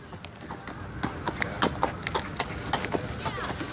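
Horse hooves clip-clopping on a Central Park road, a steady run of sharp near hoof strikes under a busy outdoor city hum.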